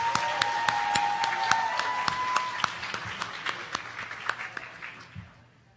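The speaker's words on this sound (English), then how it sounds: "Let's give another round of applause to our honorees and their parents." A crowd applauds honorees and their parents at a youth excellence recognition ceremony, steady broadband clapping that thins and fades out toward the end, with a faint tone lingering early on.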